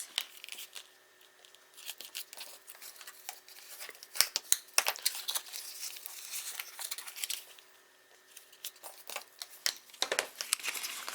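Scored cardstock being burnished for a handmade Christmas bell ornament: close, faint papery rubbing and scratchy strokes in irregular bursts, with brief crinkles and quiet pauses between passes.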